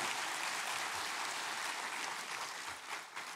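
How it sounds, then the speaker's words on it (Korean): A church congregation at a New Year's Eve watch-night service claps together in steady, dense applause, fairly soft and even throughout with no talking. "박수를 하나님께 드리겠습니다."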